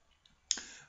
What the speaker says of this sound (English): click directly on the F8 function of your keyboard to toggle between on and off